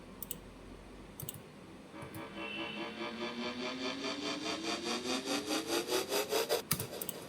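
Uplifter for an electronic build-up, a pitched tone gliding steadily upward under a pulsing, accelerating rhythmic texture that grows louder, with a few sharp clicks at the start and a hit near the end.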